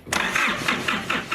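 An Isuzu D-Max 4JJ1 diesel engine cranking, the starter turning over in a steady rhythmic chug of about five strokes, loud and close.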